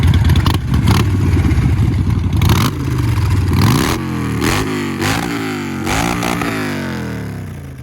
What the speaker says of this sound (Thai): เราฟังเสียงเครื่องยนต์กันดีกว่า